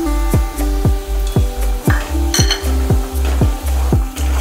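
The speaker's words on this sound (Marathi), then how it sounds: "आता घेतलेला आपल्याला रवा टाकायचा आहे।" Semolina (rava) roasts in a pan under loud, steady stirring, about two scrapes of the spoon each second in an even rhythm over a low sizzling bed, with an occasional metallic clink.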